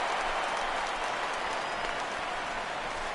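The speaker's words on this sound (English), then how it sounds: "This crowd oohs and ahs every time this guy hits a fly ball." A packed crowd at a Braves vs. Cubs World Series game at a baseball stadium roars in a steady, dense wash of noise after a fly ball, sustained and unbroken throughout.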